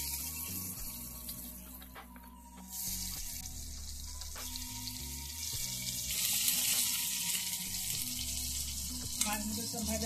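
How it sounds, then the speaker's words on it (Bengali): Fish fry in hot oil in a pan on a gas stove, giving a steady, fairly loud sizzle and crackle that swells and shifts as pieces are moved, with no voices. "বাকি মাছগুলো আমি এইভাবেই ভেজে নেব।"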